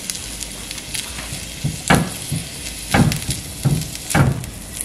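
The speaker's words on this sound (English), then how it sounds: "I'm going to let that sizzle a little bit" Eggs sizzle steadily in a frying pan as an omelet turned scramble cooks, with a constant hiss broken by several louder scraping, stirring bursts close to the microphone.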